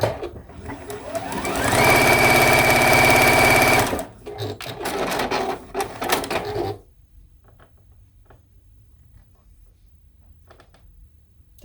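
Sewing machine running fast and steady while stitching selvage string blocks, loud and close for a few seconds, then shorter bursts of stitching and handling before near silence.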